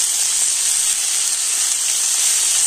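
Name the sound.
pumpkin and potato frying in a pan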